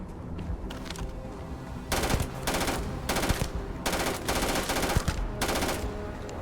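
Rapid automatic turret gunfire in the Starfield video game, loud sustained bursts of machine-gun fire repeating in several long volleys over a constant background of game noise.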